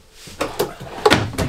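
Cabinet drawers in a 2021 Grand Design Reflection 367BHS RV are opened or shut, giving several sharp knocks and a couple of louder thumps spaced close together, near and clear with no talk.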